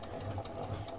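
A sewing machine runs at a steady, even pace while stitching a bias strip onto fabric for a fabric bowl, a close continuous mechanical purr with no pauses.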